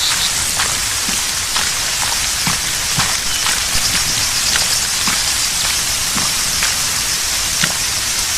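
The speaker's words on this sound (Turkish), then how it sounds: "Yağmurlu bir günde mayın arıyorum be." Steady, heavy rain falls in the military shooter ArmA 3 during a minefield search, a dense, loud patter and hiss that stays constant with scattered close droplet ticks and no voices.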